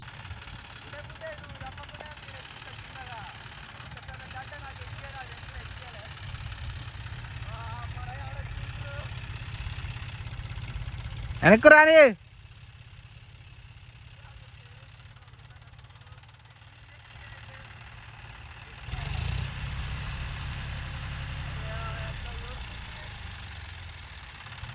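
A tractor engine runs in a low, steady rumble throughout, with a brief sharp burst of sound midway and a louder swell of engine noise near the end; people speak over it.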